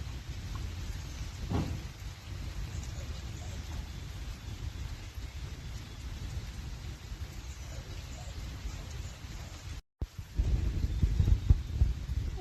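Steady rain falls during a monsoon downpour, making a constant hiss that cuts out briefly near the end and then returns louder and heavier.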